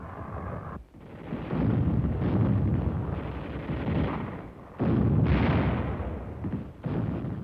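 Heavy WWII artillery pounds Iwo Jima near Mount Suribachi in a dense series of deep, rumbling blasts, several bursts separated by brief lulls, loud and booming with no voices.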